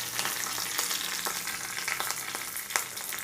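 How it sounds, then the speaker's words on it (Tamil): Mustard seeds and curry leaves crackle in hot oil for a chutney tempering, a loud, unbroken sizzle with sharp pops and spits scattered throughout, close and without voices. "எண்ணெய் ஊற்றி கடுகு போட்டுங்க. கொஞ்சமாக வந்து நம்ம கறிவேப்பிலை போட்டுடலாங்க."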